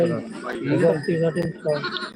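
Goats bleat repeatedly at a busy livestock market, several nasal cries close by and overlapping, with people talking and the murmur of the crowd in the background.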